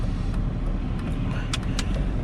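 A 21-year-old BMW E39 drives slowly through snow, with a steady, close engine and tyre rumble from inside the car and a few brief crackling crunches from snow under the wheels.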